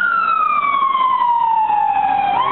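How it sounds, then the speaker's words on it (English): An ambulance siren wails loud and close, its tone sweeping steadily downward as it passes through traffic on a city street, then bending up again at the end. "I'm going to let this ambulance go through."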